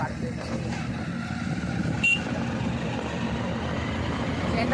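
Road vehicle rumble heard from inside a car being driven through a crowded area, a continuous low engine and road drone with a brief bump partway through, and no clear speech.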